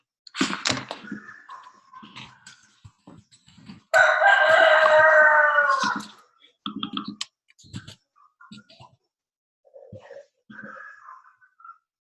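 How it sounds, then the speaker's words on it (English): A rooster crows once, loud and close, a long harmonic call of about two seconds standing alone, set among sparse clicks and soft clucks with quiet gaps between. "and the rooster's waking up."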